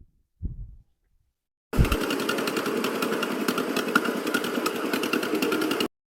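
An old farm engine on an estate-sale lot with plows, cultivators and a John Deere 40 crawler, starting after a brief low thump and running in a loud, steady, fast-chugging idle close by for about four seconds before stopping abruptly.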